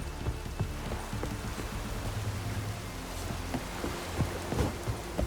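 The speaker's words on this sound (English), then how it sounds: "Oh, raining again" Steady rain in the video game The Witcher 3: Wild Hunt patters densely and evenly, with scattered sharper drops and faint low rumbles mixed in, continuous throughout.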